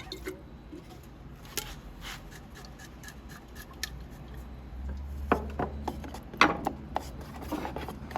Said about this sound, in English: Stir it up really good. Don't just give it a couple whackies.